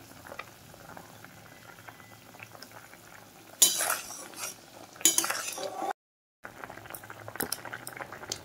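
Fish curry with drumsticks and potatoes boils in a pot, with a steady low bubbling and clinking bursts from a spoon or utensil against the pan. A brief gap of silence falls midway.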